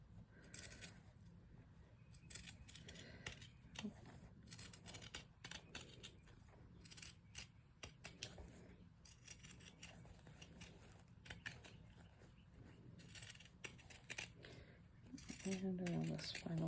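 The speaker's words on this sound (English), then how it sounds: "Trimming all the way around, making sure I don't accidentally snip into my final stitch." Scissors trim fabric around the stitched edge of a machine-embroidered applique stuffie, a faint, close series of quick snips and rustles at an irregular pace.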